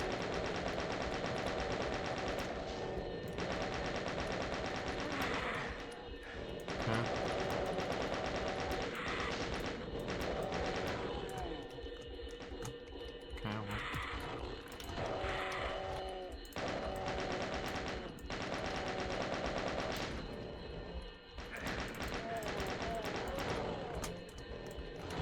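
Rapid bursts of automatic gunfire ring out in a first-person shooter as enemies are shot, in repeated long volleys with short gaps, while someone talks over the shooting.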